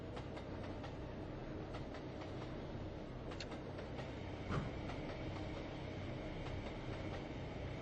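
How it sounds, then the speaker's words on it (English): A freight train in the video game Trainz rumbles steadily past with a continuous rolling roar and faint rhythmic clacks, a dense mechanical drone throughout. "Passing a freight train there."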